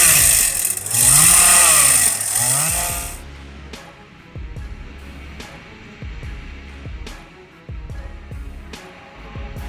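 Chainsaw cutting a tree, a loud high whine for the first three seconds, then lower engine idling and revving with short bursts throughout.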